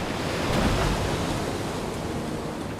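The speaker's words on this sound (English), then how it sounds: "There is a technique for paddling into waves that stops them splashing into the boat, Saul!" Ocean waves splash against a small paddled boat during a crossing, a steady, loud, broadband wash of surf and spray, heard alone, with wind buffeting throughout.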